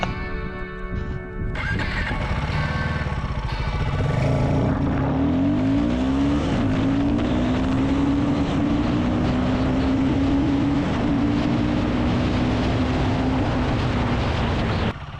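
A Royal Enfield Guerrilla 450 motorcycle pulls away hard on a closed test road, its engine note climbing steadily through the revs, loud and close, with wind rush building under it.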